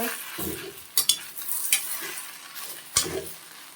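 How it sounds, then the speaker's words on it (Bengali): Taro leaves salted and stirred in a frying pan, a low sizzle beneath a few sharp scraping strokes of a spatula against the pan, with no talking. "স্বাদ অনুযায়ী আমি নুন দিয়ে দিলাম ভালো করে একটু নেড়ে ভেজে নেব"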